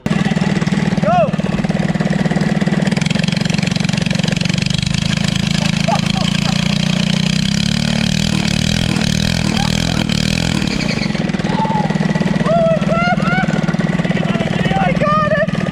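Small mini-bike engines race and rev hard, a steady loud buzzing drone with rising and falling pitch and clattery throttle blips, close by, with people shouting over it now and then.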